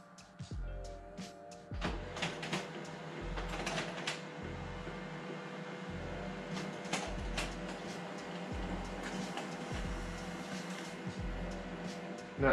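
HP Color LaserJet M477fnw printing a photo sent from a phone: rhythmic mechanical feeding thumps and whirring rollers repeating steadily at close range, fairly quiet throughout.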